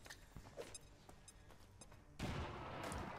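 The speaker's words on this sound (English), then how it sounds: "Grenading out." Grenade thrown in XCOM 2, a loud explosion bursting in partway through and leaving a broad rumbling roar, after scattered quieter game clicks and thuds.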